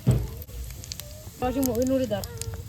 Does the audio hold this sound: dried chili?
yes